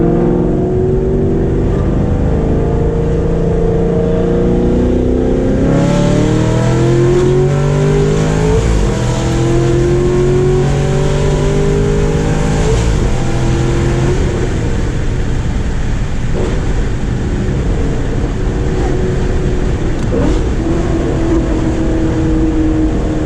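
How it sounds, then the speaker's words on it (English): Camaro ZL1 accelerating hard through no-lift shifts, a loud close engine roar climbing in pitch, dropping briefly at each gear change and climbing again, heard from inside the car without talk. "That is how you no lift shift on a 5th gen ZL1 or a 6th gen ZR1."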